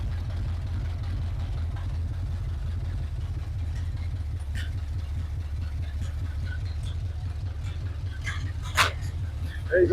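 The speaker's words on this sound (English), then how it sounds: "There you go, it's idling." A 1980 Chevrolet C10 square-body truck's engine idles steadily with a low, constant rumble throughout, a few faint knocks and clicks and a brief sharper noise near the end.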